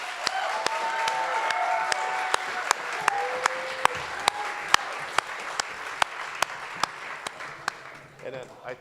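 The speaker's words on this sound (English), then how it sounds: "A big round of applause for that." An audience at a pitch competition applauds as contestants come on stage, a sustained wash of many hands with sharp, regular claps standing out, and crowd voices mixed in before it fades.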